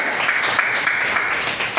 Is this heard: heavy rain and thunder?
no